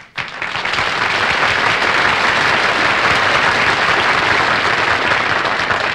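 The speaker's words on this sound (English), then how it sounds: "they're applauding because I quit" Studio audience at a television variety show gives a big, sustained round of applause that swells in sharply and holds at a loud, dense, even roar of clapping for several seconds.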